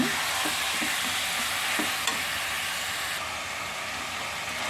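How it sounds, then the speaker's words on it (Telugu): Chicken sizzles and fries steadily in a pan on high heat for a gravy curry, with a continuous loud hiss and occasional scraping stirs, no voices. "కాసేపు ఒక ఐదు నుంచి పది నిమిషాలు వేపుకోవాలి చికెన్"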